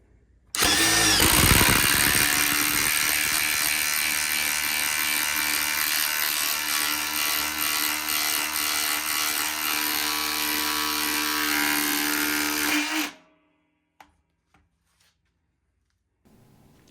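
A Senix cordless impact driver drives a socket into wood, starting with a sharp burst and then hammering steadily and loudly for about twelve seconds before cutting off abruptly into near silence.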